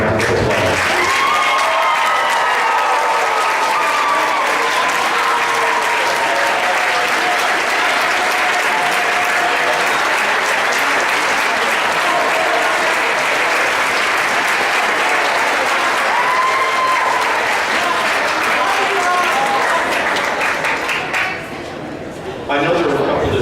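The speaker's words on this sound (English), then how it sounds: "Please stand and let us give you a round of applause." Long standing ovation at a marching band banquet, loud dense applause from a large crowd with cheering and voices mixed in, sustained for about twenty seconds before cutting off abruptly.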